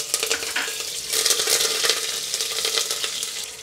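Curry leaves hit hot oil already crackling with cumin for a vegetable khichdi, bursting into a loud, close sputter that swells after the first second and keeps hissing with quick crackles.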